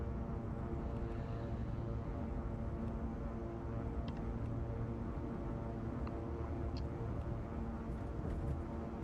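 A simulated King Air 350 turboprop rolls down the runway for takeoff in X-Plane 11, its propellers and engines producing a steady, dense, loud drone that holds without a break, with faint clicks above it.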